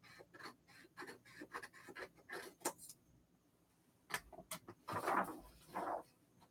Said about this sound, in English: I have an annoying pair of scissors that's really making this paper sound awful